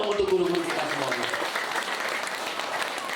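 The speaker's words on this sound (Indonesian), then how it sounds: "Tepuk tangan dong untuk guru-guru kita semuanya." Audience clapping at a Sundanese-language comedic sermon, a sustained broadband patter that follows a speaking voice at the start and then carries on steadily at moderate level.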